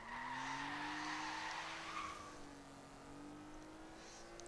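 In the video game Forza Horizon 3, a car brakes hard and its tires squeal in a long skid, a sustained screech over engine drone that fades slightly toward the end.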